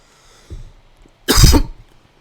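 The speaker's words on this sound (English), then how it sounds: "forgot to mute my mic for that cough" One loud, harsh cough bursts out after a softer throaty sound, close to the microphone in an otherwise quiet room.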